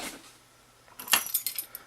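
Keys for an early Mul-T-Lock C8 padlock jangle near and clearly in a short bright burst of metallic clinks, with a near-silent lead-in beforehand.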